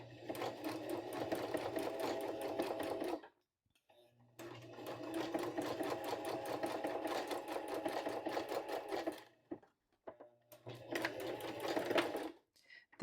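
Sewing machine stitching an abutted seam joining two fabrics edge to edge, a fast rhythmic mechanical whir in three long runs separated by short pauses, close and clear.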